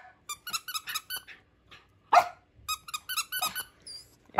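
Rubber chew toy squeaking repeatedly in short, loud bursts of varied rhythm, close by, with a dog chewing it; no talk.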